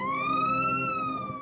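An ambulance siren wails at a road accident scene on icy Route 132 in Canada, its rising and falling tone loud and close, holding steady without any talk over it.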